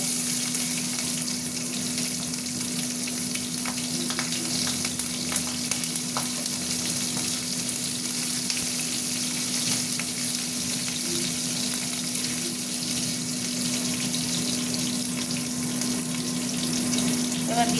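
Whole cumin, dry chilli and two slit green chillies fry in hot oil in a pan, a steady close sizzle running throughout with faint stirring clicks and a constant low hum beneath.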